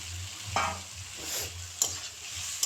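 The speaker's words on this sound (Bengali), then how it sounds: "দিয়ে ভালো করে একটু নাড়াচাড়া করে নেব, যাতে মশলাগুলো আলু আর পনিরের ভিতরে ঢুকতে পারে" Potatoes and flour-coated paneer get tossed in a pan of frying spices: a soft crackling sizzle with a few sharp scrapes and clinks as the spoon turns them over.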